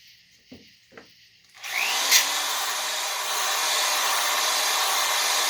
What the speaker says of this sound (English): You also want to keep your drill in line with the cylinder itself